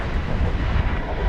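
An eight-year-old Boeing 737-800 airliner takes off at Dallas/Fort Worth Airport, a steady, loud, broadband roar of jet engines that holds without a break.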